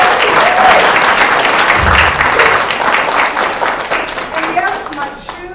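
An audience applauds Dr. Nicole Yarling at a Black lives event, with dense, loud, sustained clapping that fades slightly toward the end while voices murmur underneath.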